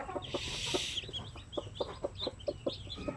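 Native chickens cluck in a rapid, evenly spaced series nearby, with a brief high-pitched peeping at the start that fits a newly hatched chick.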